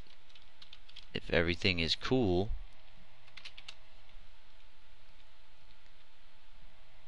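Code is typed on a computer keyboard as faint, sparse keystroke clicks over a low hum, with a short spoken phrase near the start.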